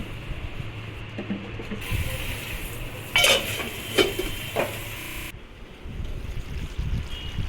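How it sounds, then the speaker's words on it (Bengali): Chicken being mixed with spices in a cooking pot, with scattered metal scraping and clanking of a utensil against the pot, including a few sharper knocks, over a low background hum. "মাংসটা দিয়ে আমি ভালো করে মশলার সাথে মাখিয়ে নিচ্ছি"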